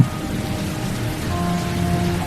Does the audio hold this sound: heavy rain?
yes